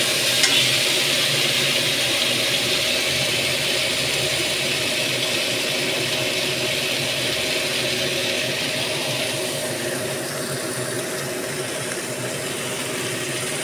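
Spice paste sizzling and frying in hot oil for a Bengali bata fish curry with drumsticks, a steady close crackling hiss that runs continuously and eases slightly toward the end, with no talking.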